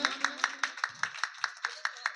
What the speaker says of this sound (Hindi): ताली बजती रहे, ताली बजती रहे सम्मान में।